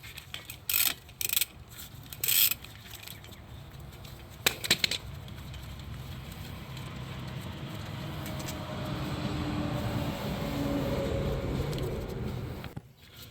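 A 14mm wrench loosens brake caliper bolts on a 2017 Nissan Rogue, giving several sharp metallic clicks and clanks early on, then a steady low mechanical hum and rumble nearby with no speech.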